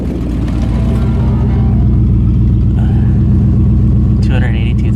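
A Buick Roadmaster with 282,000 km on it idles close by, a loud, deep, steady rumble, while someone talks over the engine.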